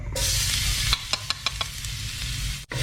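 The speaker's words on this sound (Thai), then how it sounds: "ผักกระเทียมให้เหลืองหอมก่อนนะครับ" Steady sizzle of minced garlic frying in hot oil in a wok, with a few sharp crackles and pops partway through, close and fairly loud.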